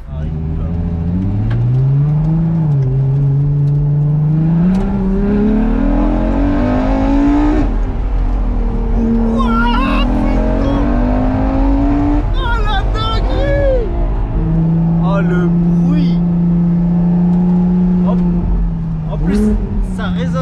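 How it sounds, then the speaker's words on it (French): Inside a Ferrari LaFerrari with a carbon cabin driving on gravel, a loud, continuous engine drone rises and falls in pitch throughout, with light crunching and clicks on top and people talking over it. "T'entends les petits bruits du gravier, ouais."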